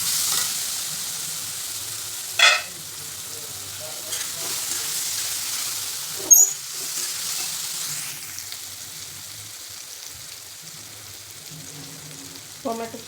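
Tomatoes and mixed vegetables sautéing for pav bhaji give a soft, continuous sizzle and hiss from the pan, with a few sharp scraping stirs punctuating it.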